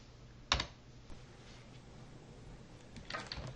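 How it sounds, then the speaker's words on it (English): Arrow keys on a computer keyboard are tapped in a few quiet, separate clicks, a sharp press near the start, a lighter one after, then a small cluster near the end. "And now I'm using the arrow keys"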